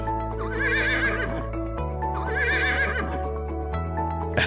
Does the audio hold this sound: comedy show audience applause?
no